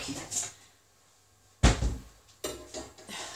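A kitchen door bangs shut with a sharp, loud thump, followed by a second lighter knock a moment later, amid small kitchen clatter during home baking of a carrot cake.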